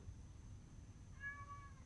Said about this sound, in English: This motherfucking cat keep coming to my motherfucking house like he live here.